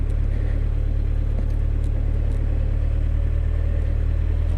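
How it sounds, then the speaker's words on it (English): A Honda CB1100 motorcycle engine, fitted with a stock 2014 seat, running steadily without throttle, a loud, low, continuous rumble with no rise in revs. "I'm basically letting the engine do what it's going to do without giving it any gas"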